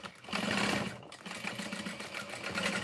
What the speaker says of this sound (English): I'm back stitching close to the accent panel, so back stitch over that.